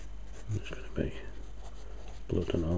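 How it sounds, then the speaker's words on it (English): Soft, scratchy strokes shade a drawing of a pale demon face, with a brief stretch of speech near the end. "I need to start shading the rest of it"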